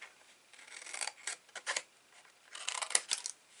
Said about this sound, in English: you're going to cut down both sides of here. And then cut these in half